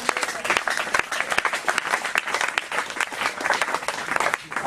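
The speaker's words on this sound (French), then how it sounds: "Est-ce qu'on peut acclamer le Seigneur?" Congregation in church applauding to acclaim the Lord, a lively wash of many hands clapping with sharp individual claps standing out, steady and fairly close throughout.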